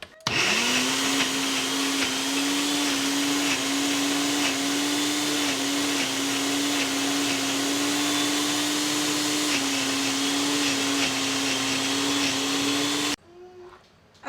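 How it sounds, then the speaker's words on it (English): A kitchen blender purees cooked eggplant into a smooth paste for keto refried beans, its motor whirring loud and steady for about thirteen seconds before cutting off abruptly. "just pop it on your blender and just blend it until smooth."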